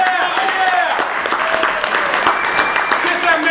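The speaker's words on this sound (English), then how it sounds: "A round of applause for this gentleman!" Audience applause at a live comedy festival show, dense steady clapping close and loud, with voices calling out over it.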